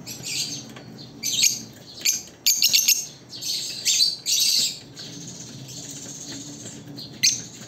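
Pet lovebirds being fitted with leg bands let out sharp, close chirps and squawks in short clustered bursts, separated by quieter rustling gaps.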